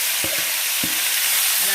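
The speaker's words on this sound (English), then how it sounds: "You hear that sizzle?" Oxtail fries in a hot pan with a steady, loud sizzle, a dense continuous hiss broken by a few soft knocks of stirring.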